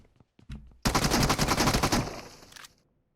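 Gunfire in a video game: a short rapid burst of automatic shots, loud and dense for about two seconds after a couple of faint thumps, then quickly fading out.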